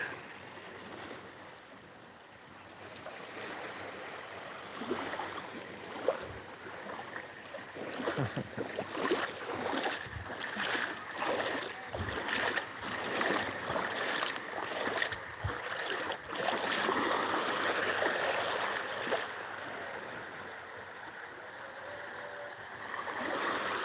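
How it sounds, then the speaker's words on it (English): Clear ocean waves on a Thai beach wash in and break across the sand, a continuous rushing surf with repeated splashes and swells, steady and fairly close, with wind noise and no talking. "I love those crystal clear waves like prisms."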